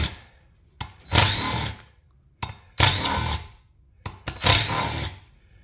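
Power tool, likely an impact gun, removing bolts from the beadlock ring on a Polaris RS1 wheel during a tire change, firing in three loud bursts of about a second each with short pauses between.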